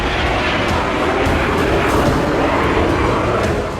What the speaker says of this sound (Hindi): प्रिगोजिन का प्राइवेट जेट सामान्य तरीके से उड़ रहा था।